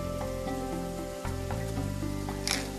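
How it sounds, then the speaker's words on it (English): Cilantro sautéing in a pan with a dash of Chardonnay and a little salt gives a steady, soft sizzle with a few faint clicks and a brief brighter hiss near the end, with no voices. "Give it a little bit of a saute."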